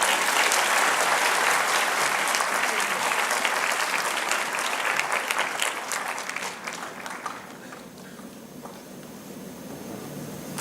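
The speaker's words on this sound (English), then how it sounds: "Can we have some energetic applause, please?" Audience applause at a business conference on Industry 5.0, a dense wash of many clapping hands that holds steady, then tapers off into scattered claps and quiet room noise.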